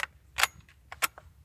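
Hatfield USA12C SAS camo shotgun firing light loads at a range, two sharp broadband reports about half a second apart, each trailed by faint mechanical clicks of the action.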